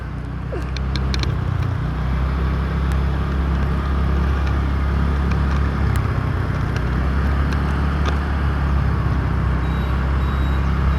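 Heavy road traffic during an evening rush, a steady low engine rumble of cars and larger vehicles rolling past, with a few faint sharp clicks and knocks scattered over the constant drone.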